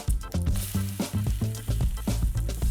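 Egg-soaked bread sizzles and crackles in a buttered frying pan, a close, steady fry with bursts of spattering and a few soft scraping pulses.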